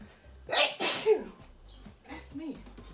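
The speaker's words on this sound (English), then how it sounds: "sneeze is coming" A sharp, close sneeze bursts out after a quick inhale, followed by faint breathy voice sounds.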